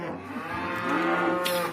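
Cattle low on a farm, one deep, sustained moo rising and swelling close by, with no talking over it.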